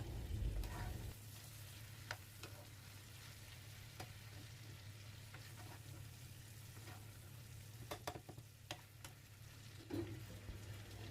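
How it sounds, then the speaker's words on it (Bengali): Fish heads fry in oil in a pan at home, pressed down as they cook, with a steady soft sizzle, occasional sharp ticks and pops, and a brief stirring scrape at the start. "আমি একটু চেপে চেপে মাথা টাথাগুলো ভেজে নিচ্ছি যাতে ভিতরে কোনো অংশই কাঁচা না থাকে"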